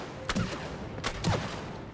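Two sharp shots hitting targets in the video game It Takes Two, each followed by a short ringing tail, moderately loud and about a second apart.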